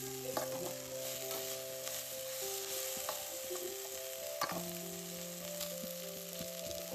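Whole spices fry in oil for mutton sambar: black pepper, cinnamon, cloves, cardamom and star anise. A continuous close sizzle runs under occasional stirring clinks, and no voice is heard.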